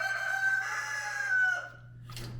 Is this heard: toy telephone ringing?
no